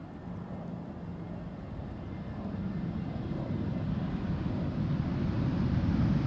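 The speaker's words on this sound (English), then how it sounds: "EasyJet A320neo arriving from Split" An EasyJet Airbus A320neo airliner arriving at Amsterdam Schiphol, a steady broadband jet roar that swells gradually louder as the aircraft approaches, with some wind rumble and no talking.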